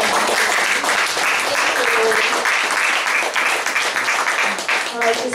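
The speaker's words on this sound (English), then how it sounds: "Clap it up, church." A church congregation claps and applauds steadily throughout, a dense, loud wash of hands that holds without a break, with voices mixed in among the crowd.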